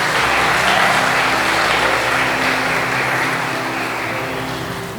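A church congregation claps together in a loud, dense burst of applause that holds steady and fades slightly toward the end.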